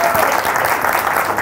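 A stand-up comedy crowd bursts into loud, close, continuous applause, a thick wash of clapping with no break for the whole moment.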